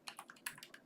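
Quick keystrokes on a computer keyboard while an email address is entered into a web app login form: about six light, close clicks in under a second, faint and with no talking.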